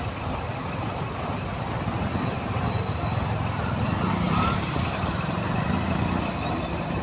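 Heavy road traffic at the Kamrej crossroads on the Surat highway makes a dense, continuous rumble of engines and tyres, close and steady with no clear breaks.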